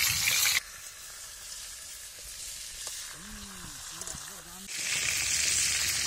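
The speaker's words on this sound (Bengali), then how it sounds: "সাবলা দিয়ে মাছের মাথা ভাজা হচ্ছে" Katla fish head frying in oil with water lily stems: a loud, steady sizzle, then a stretch of quieter frying under a voice, then a strong sizzle again.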